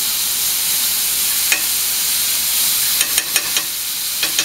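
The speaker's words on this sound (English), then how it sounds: "we've got my pan on like a medium heat here. Just going to add some butter." Butter sizzles in a pan over medium heat, a steady close hiss broken by a few small pops and crackles, with no talking.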